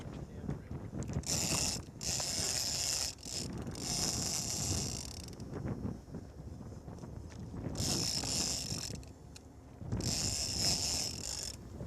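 A fishing reel's drag buzzes and ratchets in several sustained bursts as a tuna strips line, fairly faint, with wind and boat noise between runs.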